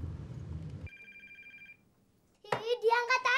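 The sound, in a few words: telephone ringing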